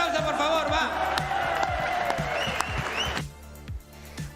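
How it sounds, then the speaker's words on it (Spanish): A crowd at a DOGFIGHT Wild Tournament MMA event applauds and cheers under loud talk and background music. Sharp percussive hits punctuate the noise before it thins out. "Un aplauso, por favor, va."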